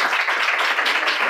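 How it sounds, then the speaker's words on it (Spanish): Audience at a conference applauding, a brief burst of many hands clapping, dense and fairly loud, with no talk over it. "si le damos un aplauso"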